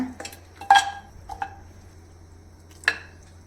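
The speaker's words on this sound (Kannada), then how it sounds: "ಇವಾಗ ಇದನ್ನು ಕುಕ್ಕರ್ಗೆ ಹಾಕೋಣ" Raw washed mutton pieces tipped from a plate into a pressure cooker, giving a few scattered metallic clinks and clatters of cookware with quiet gaps between, close and fairly soft.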